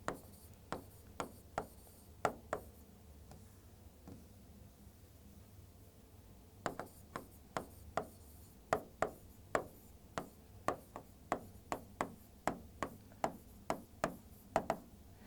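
Chalk or marker writing on a board during a maths class, a series of sharp taps and short strokes in irregular bursts with a pause in the middle, faint room hum underneath.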